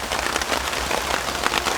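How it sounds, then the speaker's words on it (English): Steady rain falls on a forest campsite with a hammock and shelter set up, a dense, loud patter of drops hissing evenly throughout with no voices. "it's been raining quite a lot for the last half an hour"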